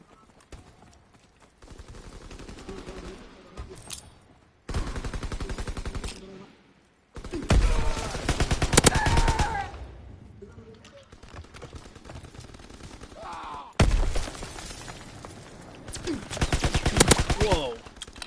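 A grease gun fires in Call of Duty WWII, sounding as loud bursts of automatic gunfire that come and go among other game noise, with players talking over it.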